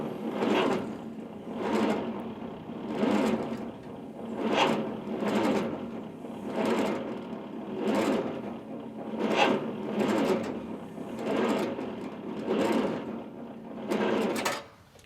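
An Allis Chalmers tractor engine cranks very slowly in cold weather, a rhythmic grinding churn of turning gears repeating about once every 1.5 seconds, moderately loud and steady with no talking.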